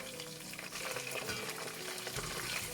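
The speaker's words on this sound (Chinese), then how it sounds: "把鸡块再次倒入锅中油炸" Battered chicken pieces deep-fry in hot oil over maximum heat, giving a dense, continuous crackling sizzle close by, with occasional stirring clinks and no speech.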